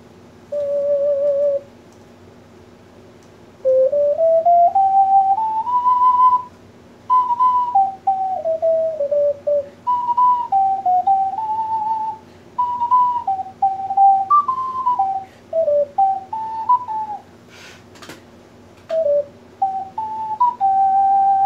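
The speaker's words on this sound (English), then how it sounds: "I like the penny whistle, but it is quite shrill." A shrill penny whistle plays a wandering melody in bright sustained notes, with short gaps between phrases, loud and close with no talking.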